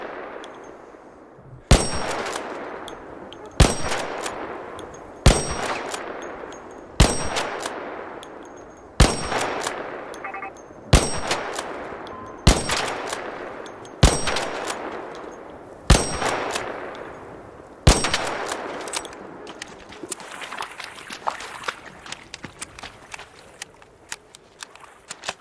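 Gunfire in ARC Raiders: about ten sharp, loud single shots spaced roughly two seconds apart, each ringing off with a metallic tail, followed by a scatter of faint clicks and rattles.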